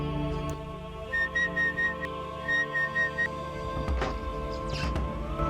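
A short series of high, clear whistle notes repeats in a rhythmic pattern over a soft background score, followed by a couple of sharp clicks.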